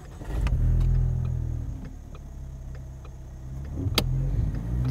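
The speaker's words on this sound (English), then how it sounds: "You just did your first burnout." Manual-transmission car revving hard on a steep hill in a first-time burnout: a loud, close engine roar rises at the start and holds steady. It stays strong throughout and swells again near the end.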